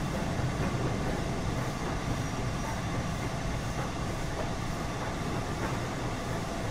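A train rolls along in the Train Sim World 4 video game, a steady mechanical rumble with light rail clatter near a station, continuous and unbroken with no voices.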